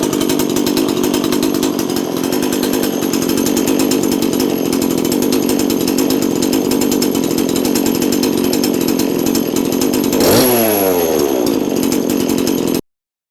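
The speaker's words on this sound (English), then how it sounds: "I'll demonstrate this by starting the saw, and I'll just let it run." A chainsaw fitted with a rim sprocket conversion and no bar mounted idles and runs steadily and loudly close by, then is shut off near the end, its engine note sliding down as it winds to a stop.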